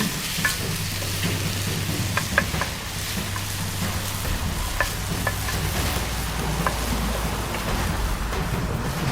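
Kimchi and minced garlic stirred in a hot pan on a grill, giving a steady, close sizzle with light scraping ticks from the utensil throughout and no one speaking.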